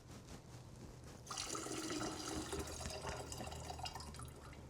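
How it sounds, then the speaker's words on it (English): Limoncello poured through a fine mesh sieve into sugar water for homemade sangria, a steady close liquid splash and trickle that begins after a quieter opening and runs on alone. "now we're ready to put our limoncello right in with the sugar water"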